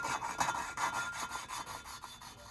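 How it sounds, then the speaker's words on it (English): Hand lapping of an engine valve on its seat, quick regular back-and-forth rotating strokes producing a close, soft, gritty rasping with an even rhythm and no voices. "the way you lap valves is you basically just rub and rotate until it gets really coarse"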